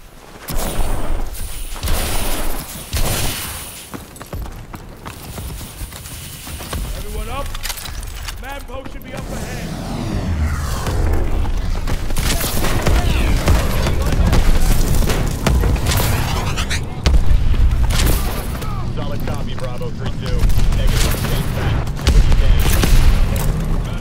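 Gunfire bursts and booming blasts from the Call of Duty: Advanced Warfare story campaign, loud and dense throughout, with speech mixed in over the din.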